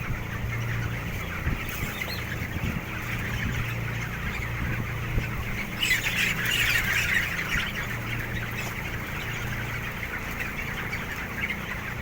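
Twenty-day-old chicks squawk and cheep nonstop in a noisy mass under a steady background hum, with a louder burst of calls about halfway through.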